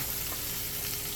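Surf and turf sizzles and crackles steadily in a hot pan, a close, continuous frying hiss with no voices.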